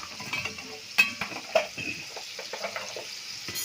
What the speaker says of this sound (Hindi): इसको बराबर मिक्स कर दीजिएगा।